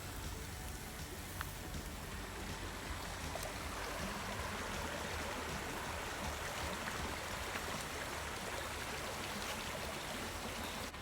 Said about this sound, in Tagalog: itong ilog na to walang ubos ang tubig yan